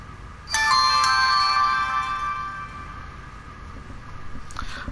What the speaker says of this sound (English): If y'all hear weird noise, that'll be my phone.